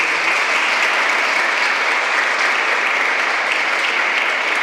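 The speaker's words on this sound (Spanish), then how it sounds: "Aplauso para Caled" A crowd at a quinceañera party in Xalitla, Guerrero claps in a dense, steady burst of applause that holds evenly loud throughout, with no distinct voices.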